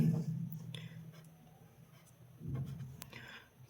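A pen writes out a Class 10 math solution on paper in soft, intermittent scratching strokes, faint and close, with quiet pauses between bursts of writing.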